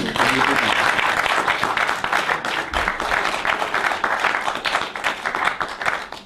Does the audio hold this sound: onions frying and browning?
no